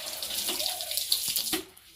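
Water from a tap splashing steadily as someone washes their hands and face at home, a continuous close splatter with small irregular bursts.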